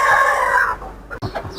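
A white Pahari hill rooster about six months old crows once, loud and close, the long call fading out before a brief rustle and soft clucking.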